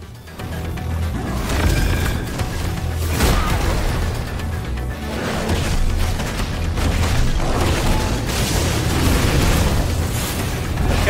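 Magic burst explosion spells in the video game Final Fantasy XVI, a dense run of loud booms and crashing bursts layered over a heavy rumbling game soundscape, with repeated impacts throughout.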